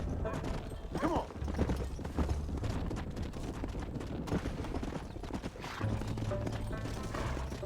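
Horses are driven into a pen in the Red Dead Redemption video game, with steady clattering hooves, a brief whinny and some creaking and clanking, continuing under background game sound for several seconds.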